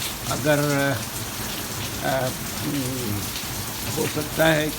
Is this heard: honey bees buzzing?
no